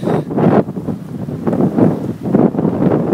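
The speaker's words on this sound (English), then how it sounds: "experience this wind like the gust of my life" Strong wind gusts buffet the microphone in loud, surging waves of low rumbling roar, several swells rising and falling across the span with no voices.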